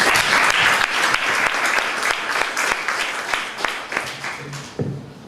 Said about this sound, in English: So, round of applause for Hafsa.